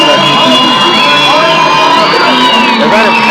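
A concert audience at a tribute event cheers, whoops and shouts continuously in a loud, dense crowd roar with voices rising and falling throughout.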